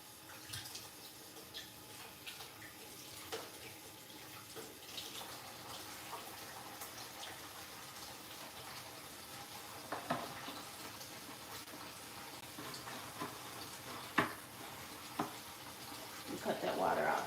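Water runs steadily from a kitchen tap while cans are washed, a continuous splashing hiss with occasional clinks and knocks nearby.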